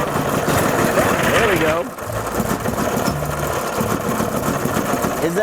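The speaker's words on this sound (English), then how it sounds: "it seems like it's idling pretty okay" An engine idles with a steady low rumble and mechanical chatter after starting, with a person speaking briefly over it.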